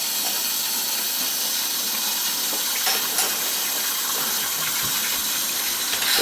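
A toilet tank refills after a flush in a house with a newly installed well and water filter, giving a loud, steady rushing hiss of water that runs on without a break.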